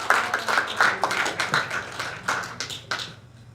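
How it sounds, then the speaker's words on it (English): Audience at a network marketing presentation giving a round of applause, heard as a modest spatter of individual claps, fairly close and uneven, thinning out toward the end. "Give them another round of applause"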